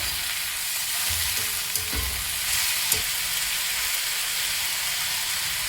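Onion and tomato fry in a pan for an egg thokku, a steady loud sizzle and hiss with a few soft knocks from stirring, no voices.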